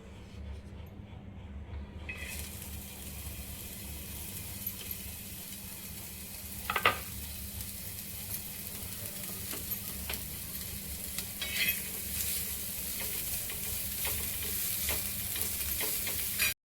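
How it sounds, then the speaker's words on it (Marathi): Onion frying in a little oil on a flat pan, a steady soft sizzle throughout with occasional scraping stirs, close and moderately quiet, no voices. "कांदा पहिल्यांदा तव्यात टाकायचा, थोडंसं तेल लावायचं आणि कांदा भाजून घ्यायचा आपण"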